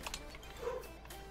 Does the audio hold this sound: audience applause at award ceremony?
no